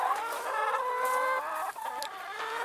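Chickens clucking steadily inside a chicken coop, a busy overlapping chorus of close, moderately loud clucks and squawks with no talk.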